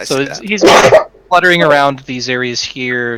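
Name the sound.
sneeze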